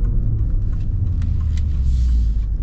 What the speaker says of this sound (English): gotta love the sound of this V8